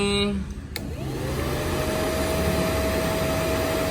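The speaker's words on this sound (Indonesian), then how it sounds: "Dan kipas ini tuh niup ke dalam, bukan ngehisap." Small cooling fan blowing inward on a custom-built Yamaha Mio J scooter project, a steady close whooshing airflow with a faint whine, after a brief click as it switches on.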